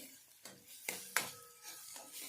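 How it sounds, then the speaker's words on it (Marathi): A spoon scrapes and taps through red pumpkin sabzi in a pan, with a few distinct knocks against the pan at irregular intervals, quiet and close. "आणि ते याला परत छानपैकी मिक्स करून घेते"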